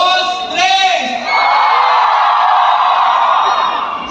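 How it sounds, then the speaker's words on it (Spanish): Crowd at a night electronic music event at the Huejotzingo fair in Puebla, cheering and shouting loudly in a sustained roar, following a short amplified voice at the start. "No, quiero escuchar un fuerte grito."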